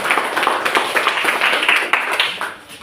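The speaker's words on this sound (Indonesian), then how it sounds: "Oke, tepuk tangan." A classroom audience claps after a student presentation, a short burst of quick, uneven hand claps from a small group, fairly close and loud, fading at the end.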